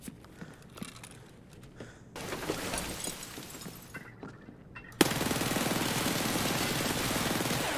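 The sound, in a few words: gunfire in the video game Escape from Tarkov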